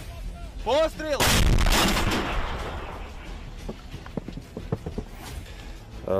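An artillery gun fires on the Toretsk front in Donetsk Oblast: one loud, near boom with a long rolling decay. It follows a brief shout, and sharp clicks and clatter come after.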